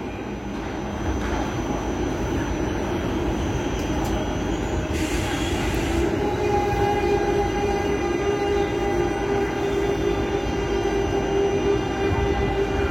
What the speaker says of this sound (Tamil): இந்த ட்ரெயின் போகிற வரைக்கும் உங்களுக்கு காட்டுறேன்